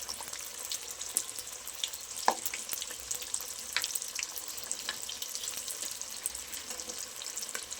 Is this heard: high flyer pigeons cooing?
no